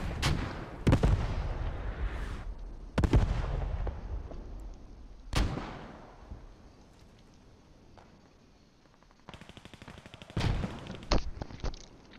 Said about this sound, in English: Artillery coming in there, they need to stay in those buildings